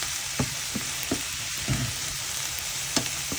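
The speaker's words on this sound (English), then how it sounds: "And we're going to saute it here." Onions sizzle steadily in a hot pan for a vegan chickpea and sweet potato curry, with a few soft stirring knocks scattered through the constant frying hiss and no talking.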